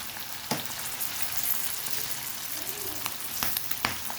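Pork sizzles in a pan of hot oil with fresh chilli and garlic as the garlic turns golden, a continuous crackling fry with a few sharper pops throughout and no voices.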